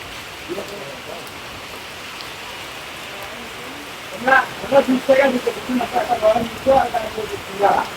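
Steady rain hisses throughout while a person talks in bursts during the second half, close to the microphone.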